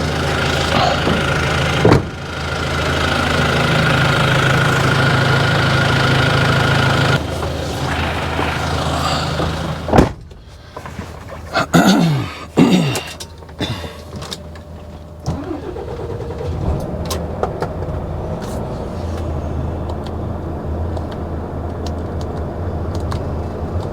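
HGV truck diesel engine idles loud and near in a steady rumble, then sharp air hisses and clunks as brake pressure builds before a steady idle returns.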